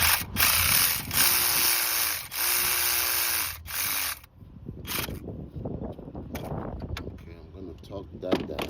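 Ratchet spinning a bolt down on a 2002 Jeep Liberty engine during thermostat and water pump work, quick repeated clicking bursts close up, followed by clattering handling of parts.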